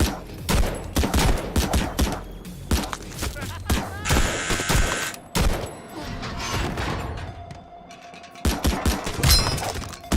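M1 Garand rifle firing in a video game: a rapid run of sharp, loud shots and booms in bursts, with mechanical clatter and game ambience between volleys.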